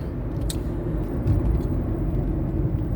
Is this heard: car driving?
yes